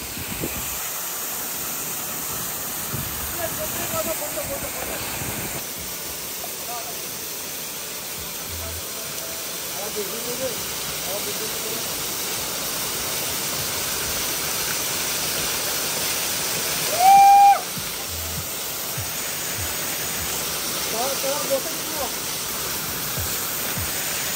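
Steady broadband rush of the Bhavanikada waterfall at Kharpada near Pen, a continuous distant roar of falling water with faint voices and brief sounds over it.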